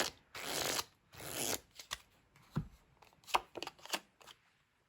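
Tarot cards being shuffled up close: two long riffling bursts, then a series of short snaps and taps as cards are squared and laid down, in a quiet room.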